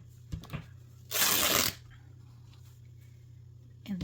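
Scissors snip through embroidery fabric in one brief, bright burst of cutting, with a couple of faint handling sounds before it and a soft hum underneath.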